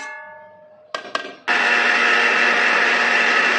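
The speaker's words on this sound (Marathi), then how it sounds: "मिक्सरवर बारीक करून पाणी बिलकुल टाकायचं नाही." A short electric hum and a couple of clicks, then a mixer grinder roars to full speed, grinding fine without water, and keeps grinding loudly and steadily.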